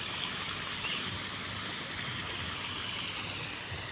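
Water leaks and pours from a pipe beside a canal, producing a steady, even rush of flowing water that continues unbroken at moderate loudness, with no voices.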